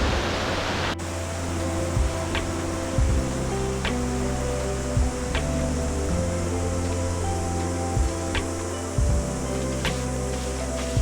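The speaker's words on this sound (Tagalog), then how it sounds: "Whangarei Falls." Whangarei Falls in New Zealand, on the Hatea River, pours out a steady, dense roar of falling water that fills the whole stretch evenly, with no voices.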